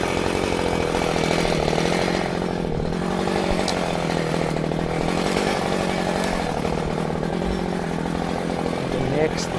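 A chainsaw cuts into a tree on a farm while felling it, giving a continuous, loud, close engine drone that runs steadily throughout.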